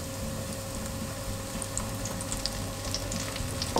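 Potato croquettes deep frying in hot oil, a steady dense sizzle and crackle with scattered bright pops running throughout, fairly close and continuous with no talking.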